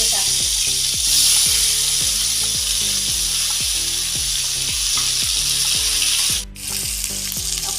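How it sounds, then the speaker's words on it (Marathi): Ground masala paste fries loudly in hot oil in a kadhai, a dense steady sizzle punctuated by regular scraping strokes of a spatula, briefly dipping before resuming. "वाटलेला मसाला कढईमध्ये टाकते।"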